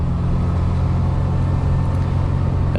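A 1994 Ferrari 348 Spider engine rumbles steadily while driving with the top down, loud and close, a continuous low drone with no speech.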